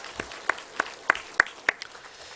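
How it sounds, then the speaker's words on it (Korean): A church congregation applauding during a Sunday worship service, heard as sparse, distinct claps in a slow regular rhythm, about six separate hits spaced evenly and fairly close. "우리 박수로 축하해드리겠습니다."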